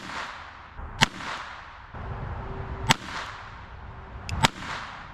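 Three sharp gunshots from a North American Arms mini revolver firing .22 Short rounds, spaced about two seconds apart at close range, each a crisp crack with a short tail over quiet outdoor ambience.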